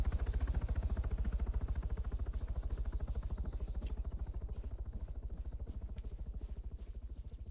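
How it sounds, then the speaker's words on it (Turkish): Helicopter in the military game ARMA 3, a steady rapid rotor chop thumping continuously in the background, fairly faint and even throughout. "Savaş helikopteri değil ama."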